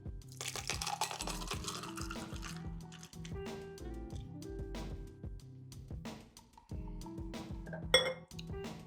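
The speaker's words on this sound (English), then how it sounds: "we're gonna just open pour into a double rocks glass" A Mai Tai cocktail is open-poured into a double rocks glass, with ice clinking and rattling against the glass in a steady run of close, bright chinks and a short liquid pour, followed by a louder clink near the end.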